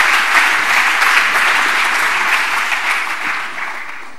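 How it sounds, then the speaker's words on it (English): Conference audience applauding to welcome a speaker before a talk on regular expressions in Python, a dense steady clapping that fills the room and fades slightly toward the end. "Let's have a round of applause, and let's hear it."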